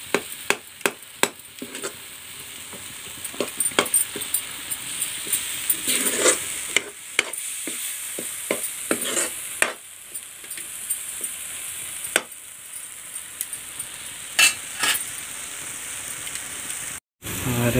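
Tomatoes cook in a pan with boiled potato and flat beans, giving a steady close sizzle broken by frequent spoon clinks and stirring scrapes.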